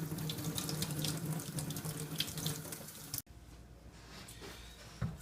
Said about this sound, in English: Run it under hot water.